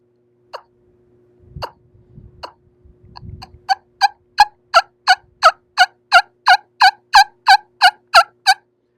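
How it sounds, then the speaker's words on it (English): A wing bone wild turkey call sounds a few sparse plain clucks, with brief handling noise, then a steady, rhythmic series of loud, high-pitched yelps, close up and alone. "Plain cluck and plain yelp of a wild turkey."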